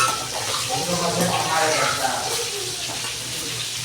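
Green chillies and chopped onions frying in oil for chicken fry, a steady loud sizzle and hiss filling the whole stretch without pause.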